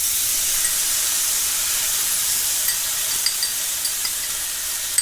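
Garlic fries in a pan for shrimp fried rice, giving a steady close sizzle and hiss with a few small pops and crackles toward the end; no one speaks.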